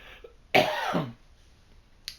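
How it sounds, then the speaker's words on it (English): A single harsh cough bursts out close to the microphone, lasting about half a second, with quiet room tone before and after. "I'm about to cough"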